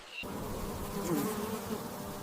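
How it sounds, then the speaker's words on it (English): A leafcutter wasp buzzes steadily and close in a humid rainforest, a continuous droning hum with slight wavering in pitch and no voices. "The leafcutter wasp, a meticulous architect, often utilizes compacted clay for its nests."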